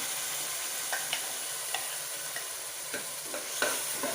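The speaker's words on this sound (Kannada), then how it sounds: "ಈಗ ಇದನ್ನು ಹಾಕ್ತಾಯಿದ್ದೀನಿ, ರುಬ್ಬಿದ್ದ ಮಸಾಲೆ ಹಾಕ್ತಾಯಿದ್ದೀನಿ." Freshly ground masala sizzles in a hot pan while cooking fish curry, a steady frying hiss broken by occasional stirring clinks and scrapes, with no talking.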